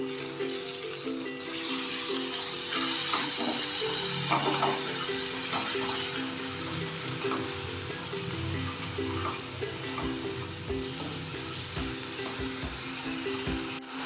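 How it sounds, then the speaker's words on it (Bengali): Spice paste for a Bengali tengra fish dish with mustard oil sizzles and sputters in a pan as a little water is added and it is stirred, with a steady frying hiss and soft scraping, near and without talk. "অল্প অল্প জল দিয়ে মশলাটাকে আমি এবার কষিয়ে নেব"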